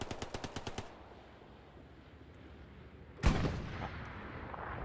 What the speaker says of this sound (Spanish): Por mi izquierda también están disparando, por ahí también.